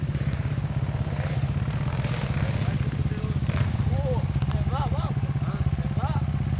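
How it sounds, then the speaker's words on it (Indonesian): A motorcycle engine revs and drones steadily on a steep, rocky off-road climb, holding a continuous throaty rumble while people talk and shout nearby. "Mang Rudi juga mulai ngegas ya"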